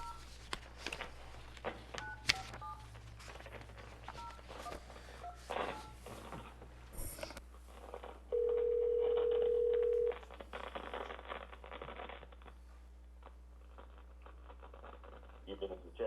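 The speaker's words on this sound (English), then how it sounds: "I'm going to take a second to awkwardly dial on this phone" A phone is dialed at a city council meeting, producing a rapid string of short keypad tones amid room noise and faint talk, followed by a steady held dial tone lasting about two seconds.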